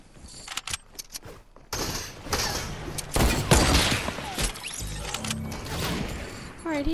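Video game gunfire with a sniper shot, loud close bursts and cracks that build into a dense fusillade and continue heavily to the end.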